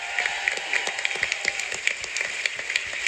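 An audience claps for a song at a My Little Pony: Friendship Is Magic panel at San Diego Comic-Con 2014, a dense, steady patter of many hands heard alone.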